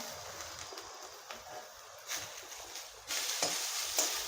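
Tomatoes tumble into a pan of frying onions browned to a reddish tint, setting off a crackling sizzle with scraping stirs and a sharper burst near the end, close and steady with no voices.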